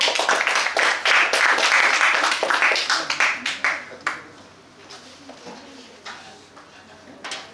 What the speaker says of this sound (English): Let's give a huge round of applause for that.